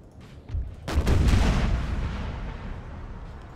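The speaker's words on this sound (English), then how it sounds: "And the shells will hit now. Went off a little early." Artillery shells burst in a Napoleon: Total War battle, a soft thump followed by a heavy, booming blast with a crackling shrapnel spray that slowly rolls off into a long, rumbling tail.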